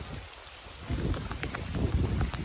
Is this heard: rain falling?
yes